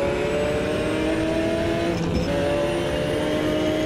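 A Jaguar race car engine in Automobilista 2 revs hard and steadily, a sustained high drone with shifting harmonics filling the whole stretch, no voices over it.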